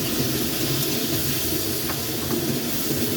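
Hot water poured off boiled chicken thighs in a kitchen makes a steady, loud rushing splash and hiss, continuous throughout without voices.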